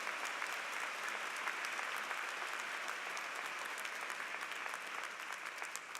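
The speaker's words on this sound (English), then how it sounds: "Give truth a round of applause." Sustained applause fills the UMBC Spring 2018 undergraduate commencement ceremony, a dense, even wash of clapping from a large crowd that holds steady for several seconds without letting up.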